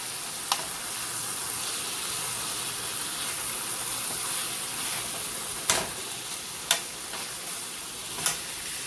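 Thyme chicken sizzles steadily as it browns in a frying pan, a constant bright hiss punctuated by a few sharp pops and spatters.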